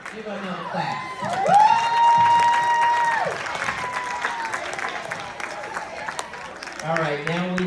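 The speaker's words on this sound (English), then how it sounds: "Give her another clap." A church congregation applauds steadily under a sustained whooping voice and cheers, with talk resuming at the end.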